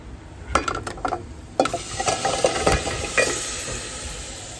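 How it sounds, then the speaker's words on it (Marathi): Malvani roasted masala sautéed in a pan for a crab curry: a spatula scrapes and knocks against the pan in short bursts over a soft, steady sizzle and hiss, close and moderately loud, with no talking. "हे छान मी आता परतून घेतोय थोडा वेळ मसाला"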